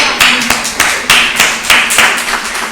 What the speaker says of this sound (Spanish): Un aplauso por los matrimonios.